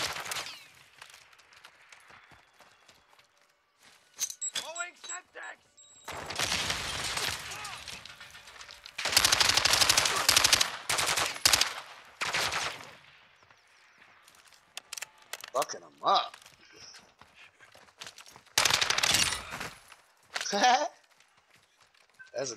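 Gunfire from a weapon in a video game comes in loud, broadband bursts, some sustained and others short and spaced apart. Quieter stretches of game noise and talk fill the gaps between them.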